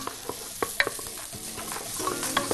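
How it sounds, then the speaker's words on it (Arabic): A spoon stirs onion, celery and leek sautéing in a pan, giving repeated scraping clicks and knocks over a soft, steady sizzle close up. "تشويح عشان ياخد الخضار"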